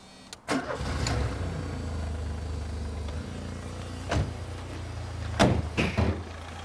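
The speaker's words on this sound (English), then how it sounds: "Shall we have a little listen to the engine?" A classic left-hand drive Ford with a CVH engine starts up after a thump, then idles with a steady low hum, close by, broken by a few sharp clunks like doors or bonnet.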